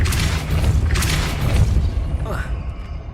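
A Depulso spell cast in the Hogwarts Legacy video game bursts out as a dense, booming whoosh, with a couple of forceful surges followed by a brief rising swish as it fades.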